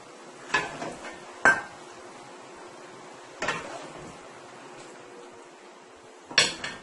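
Cooked fried sardines and potatoes being set into a dish make a few sparse clatters and knocks of crockery and utensils, four distinct bumps spread apart against a quiet kitchen background.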